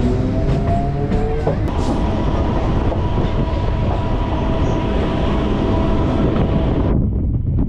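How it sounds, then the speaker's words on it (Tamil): A Chennai suburban train on the Velachery to Ponneri line runs loud and close with a steady rumble, rattling carriages and wind noise, then cuts off abruptly near the end. "மயிலாப்பூருக்கு அடுத்ததாக இப்போ ட்ரெயின் உள்ள என்ட்ராவதாங்க முண்டக கன்னியம்மன் கோயில் ரயில்வே ஸ்டேஷன்."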